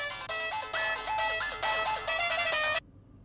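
A mobile phone ringtone plays a repeating electronic melody in several loud, even bursts close by, then cuts off abruptly.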